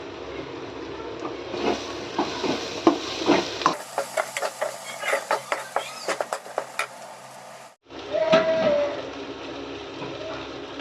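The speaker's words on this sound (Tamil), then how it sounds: "இதை மட்டும் போட்டு நம்ம கிளறி விட்டுக்கலாம்" Dried squid thokku with brinjal and turmeric is stirred in a pan, a rapid series of close scraping, tapping strokes over a low sizzle, with calmer frying before and after.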